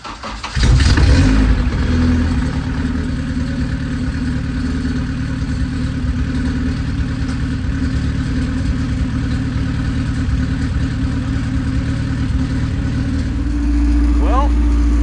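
A newly installed replacement engine in a salvage Acura RSX starts and settles into a steady, loud idle. It runs close by for the whole stretch, with a brief rev change near the end.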